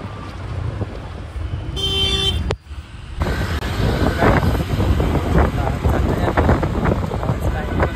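Auto rickshaw ride through busy Mumbai road traffic, with a sustained engine rumble, wind buffeting the microphone and a brief horn toot, all close and loud.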